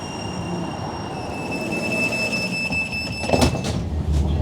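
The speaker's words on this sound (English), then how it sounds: "Looks like we're actually getting ourselves a tram train." A Sheffield Supertram tram train rumbles steadily, with high tonal whines from the wheels and motors, then clunks and rattles near the end as it comes to a stop.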